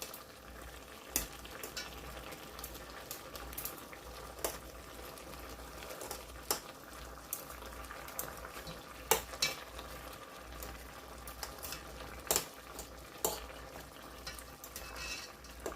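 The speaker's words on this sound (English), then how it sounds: "Give it a quick stir." Greek-style fish simmering with tomatoes and onions in a pan is stirred, giving soft scraping strokes and occasional clinks over a low steady bubbling and sizzle, at close range with no talking.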